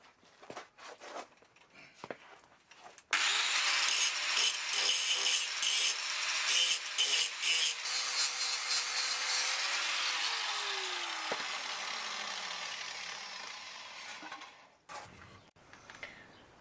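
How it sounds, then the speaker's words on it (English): Rough welds on a Land Rover Discovery chassis being cleaned off with a power tool: a few scattered knocks, then a loud, steady abrasive grinding for about eleven seconds that fades and stops. "I'm just going to clean off some of the rubbish bits of the welds, some of the rubbish welding"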